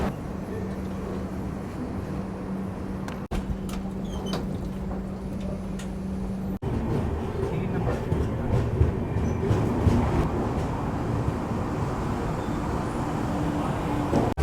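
The Falaknuma Express (12703) running out of Vizianagaram Junction in India, a steady rumbling rail roar heard from inside the train, with a low drone that fades and clatter that builds as it gathers speed.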